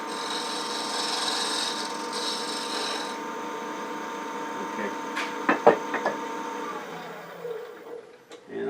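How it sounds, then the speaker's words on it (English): A specialty scraper cleans up the bottom of a wooden spin top spinning on a lathe, a steady close hum and scraping rasp with a few sharp knocks near the end. "Grab an oddball specialty scraper I'd use or something else and just kind of clean up the bottom a little bit here before we sand it"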